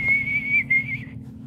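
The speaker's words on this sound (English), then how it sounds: "there's a secret whistle that if I need you guys" Someone whistles a single sustained signal whistle, close and clear, holding a steady pitch for about a second before dipping and fading over a low background hum.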